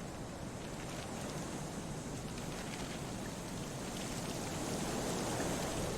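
A waterfall in the video game Kholat roars as a dense, steady wash of rushing water, loud and unbroken, with no voices over it.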